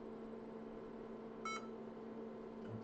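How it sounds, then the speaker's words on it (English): An IBM PS/2 Model 85 computer gives a single short electronic beep, fairly quiet, over a constant low hum of fans and drives in a quiet room. "it gave me a beep, and the diskette drive stopped spinning"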